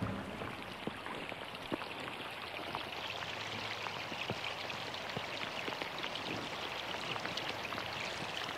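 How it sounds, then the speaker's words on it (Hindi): Heavy rain pours down outside in a steady, dense hiss, with individual drops pattering and ticking on surfaces throughout and no voices heard. "बाहर बहुत तेज से बारिश आ रही है"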